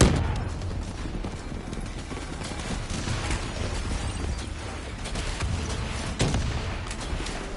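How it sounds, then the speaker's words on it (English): Javelin missile strikes in a Black Ops 3 campaign battle through a city: a dense, relentless barrage of booming explosions and rattling gunfire, with heavy blasts at the start and again near the end. "Brace for impact. Javelin missiles inbound."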